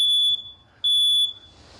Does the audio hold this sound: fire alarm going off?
yes